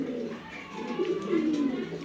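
Mili, red checker and grizzle pigeons in Mirpur coo in a low, rolling murmur, several soft calls overlapping steadily at close range against a faint background hum.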